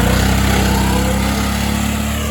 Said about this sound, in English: I feel the pain of that freaking starter